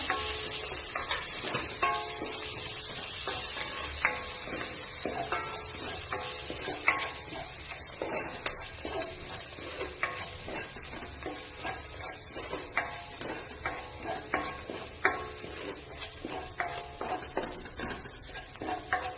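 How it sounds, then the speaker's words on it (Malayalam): Ginger, garlic and green chilli sauté in a pan, a soft, steady sizzle with scattered clicks and spoon scrapes, close but fairly quiet and heard alone without talk. "ഇഞ്ചി, വെളുത്തുള്ളി, അതേപോലെ പച്ചമുളക് ഇടാണ്. നന്നായിട്ട് ഒന്ന് വഴറ്റി കൊടുക്കണം."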